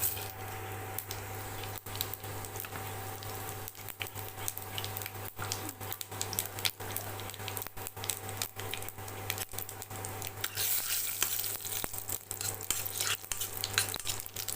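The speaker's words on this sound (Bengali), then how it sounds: "ফোড়নের জন্য নিয়েছি তেজপাতা শুকনো লঙ্কা গোটা জিরে" Bay leaf, dried chili and whole cumin seeds frying in hot ghee, giving a steady, close sizzle with light stirring scrapes throughout and no talking.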